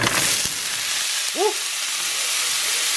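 Beyond Meat taco crumbles fry in hot oil in a pan, giving a loud, even, close sizzle that runs continuously with one brief tonal chirp partway through.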